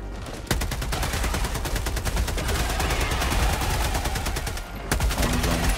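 Sustained rapid automatic rifle fire in Helldivers 2, a loud, evenly spaced stream of shots running for several seconds, stopping briefly, then resuming.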